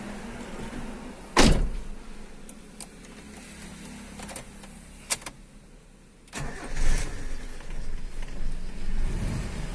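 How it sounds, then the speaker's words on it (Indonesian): A car door thuds, then a Suzuki Sidekick's engine cranks and catches, settling into a steady idle with a few clicks and knocks along the way. "Di start gampang banget nih mobil."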